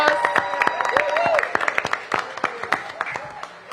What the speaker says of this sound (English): Director Richie, let's give him a big round of applause.